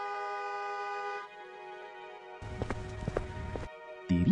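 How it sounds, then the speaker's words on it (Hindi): Loud vehicle horns blare outside a roadside eatery in an animated Hindi story, a long steady honk followed by a cluster of overlapping beeps and clopping hooves, then another horn blast. "तभी अचानक बाहर गाड़ियों के हॉर्न की तेज आवाज गूंजी।"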